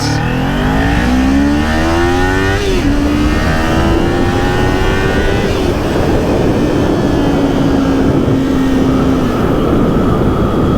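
Honda Rebel 300cc motorcycle engine revving loudly and steadily, pitch climbing through a rev, dropping back around the third second, then holding and easing through several more sustained revs, with no talking.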